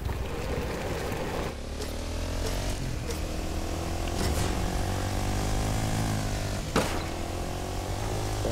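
A video game airplane engine drones steadily with shifting pitch, a continuous propeller-like hum punctuated by a few sharp clicks or impacts.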